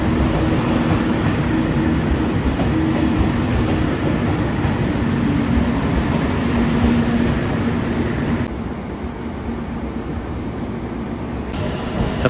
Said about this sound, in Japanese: 高松駅8時16分着、特急モーニングエクスプレス高松駅8000系特急電車です